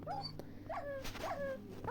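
A pet dog in Minecraft whimpers in a series of high, thin whines that rise and fall, repeating every half second or so over steady game background noise.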